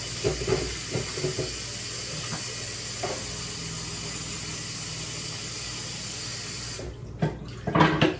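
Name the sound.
washing meat in the sink under running tap water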